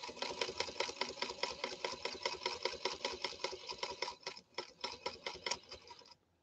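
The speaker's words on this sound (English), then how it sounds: "Featherweight Centennial model going through two layers of saddle-grade leather" A Singer Featherweight Centennial sewing machine stitches through two layers of saddle-grade leather with a rapid, rhythmic mechanical chatter, close and steady, slowing and stuttering slightly near the end before stopping.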